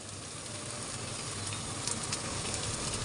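Garlic paste fries with onions and spices for chicken kabsa, giving a dense, steady sizzling hiss close up with faint stirring scrapes and no voices.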